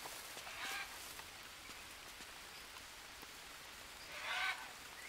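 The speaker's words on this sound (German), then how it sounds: "Ah, da wäre ein Vogel." In the jungle survival game Green Hell, a bird gives two short, faint calls a few seconds apart over a constant patter of rain.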